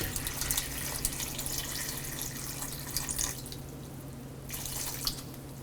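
Water trickling into a clay pot holding jackfruit seeds for a stir fry, a faint steady pouring and dripping stream close by that drops off briefly before resuming, with no voices.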